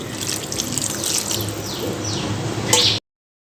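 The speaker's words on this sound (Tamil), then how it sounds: "இப்போ குழம்புக்கு சாம்பார் தேவையான புளி கரைசலை சேர்த்துடலாம்" Tamarind water pours into a pot of drumstick sambar, a steady close splashing trickle of liquid running for about three seconds before cutting off.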